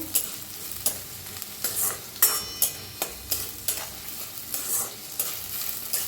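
Onion and dal roasting in a pan, stirred with steady rhythmic scraping strokes over a constant close sizzle.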